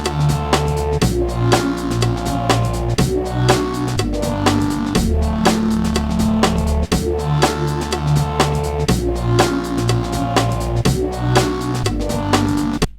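A bright synthesizer lead from a preset called Quest Complete plays a jumping drum and bass melody over steady drums and bass, dense and loud throughout.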